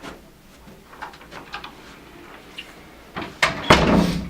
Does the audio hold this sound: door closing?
yes